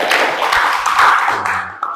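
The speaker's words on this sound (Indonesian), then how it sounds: "Oke, beri tepuk tangan teman-temannya." Classmates in a classroom session clap together in a brief burst of close, fairly loud handclaps, with a voice talking over the end of it.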